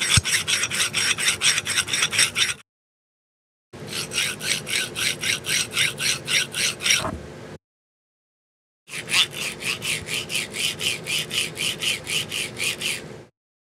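A metal carriage on a cheap linear rail, lubricated with stock oil, slides back and forth in three bursts of rhythmic rasping strokes, smooth yet gritty, separated by short silences.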